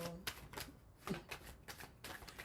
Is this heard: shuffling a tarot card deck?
yes